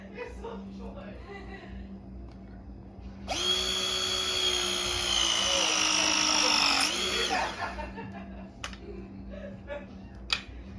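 A battery press tool with a 1/2 inch jaw crimps a copper press fitting, a steady motor whine lasting several seconds before a click as the cycle ends, with someone speaking around it.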